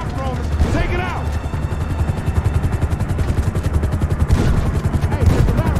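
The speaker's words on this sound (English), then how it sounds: "We ain't going nowhere with that chopper on us! Take it out!" In GTA 5, a helicopter's rapid blade chop pulses under fast bursts of automatic gunfire during a shootout mission, loud and continuous, with someone shouting over it.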